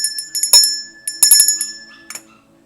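A bell rings in a few bright bursts with sustained ringing tones, played as a cue during a horoscope-style session, fairly close and with no talking over it.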